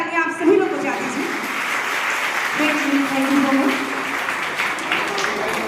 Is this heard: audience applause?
yes